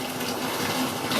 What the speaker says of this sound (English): That's the pump. Squeaks when you turn it on and on.